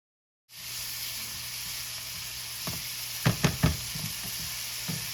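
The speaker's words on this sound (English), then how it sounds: "You're going to fry it up just like a scrambled egg." Egg mixture for fried rice fries in a hot pan with a steady, loud sizzle, broken by a few sharp spatula knocks and scrapes partway through.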